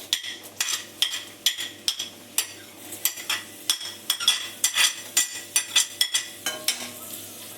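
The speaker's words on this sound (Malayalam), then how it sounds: "ഒരു 7-8 ചെറിയ ഉള്ളി കട്ട് ചെയ്തതും ഒരു സവാള കട്ട് ചെയ്തും കൂടെ ചേർത്ത് കൊടുക്കുകയാണ്." Chopped shallots and onion sautéing in coconut oil in a pan, with a soft sizzle under regular, rhythmic scraping strokes of a spatula, close and clear with no talk.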